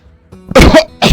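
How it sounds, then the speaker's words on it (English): Two harsh, loud coughs close to the microphone, the first longer and the second following after a brief pause. "I can't control this cough"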